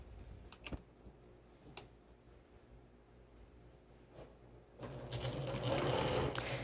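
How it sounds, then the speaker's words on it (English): A few faint clicks and taps, then a sewing machine starts up stitching a quilt seam and runs in a steady, close whir toward the end. "Then I go to the sewing machine and start the seam."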